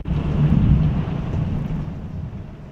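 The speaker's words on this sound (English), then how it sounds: "Can you guys hear the rain?" A recording of a heavy rain and thunderstorm plays, with a low rolling rumble of thunder over a steady hiss of rainfall, loud and continuous with no talking.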